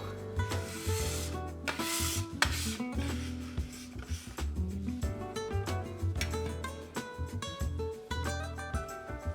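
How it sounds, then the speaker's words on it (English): Pasta dough for lasagna is kneaded by hand on a floured surface, giving continuous soft rubbing, pressing and dragging sounds in an uneven rhythm over a steady tonal background, with no voices. "just keep kneading your dough, picking up the flour as you go, until you have a nice, smooth dough"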